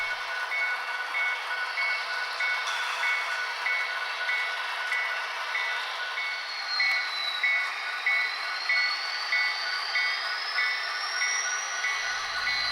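A pair of model BNSF SD40-2 switch engines run in a model railroad yard, a steady faint hum with a regular ticking pattern and a slowly rising and falling whine, continuous throughout.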